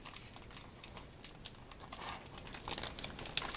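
Plastic packaging of Lobel's pepper bacon being cut open, a crinkly rustle with small snips and scratches that grows louder toward the end, close up and without speech.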